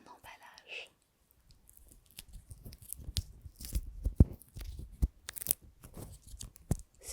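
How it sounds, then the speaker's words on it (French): Close, crisp crinkling and tearing of a candy wrapper being unwrapped, in irregular bursts of rustle and snaps, with soft whispering heard around it. "Je vais le déballer."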